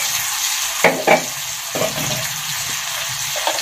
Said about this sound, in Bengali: এখন এর মধ্যে আলু দিয়ে দিচ্ছি, ভেজে রেখেছিলাম সেই আলুগুলো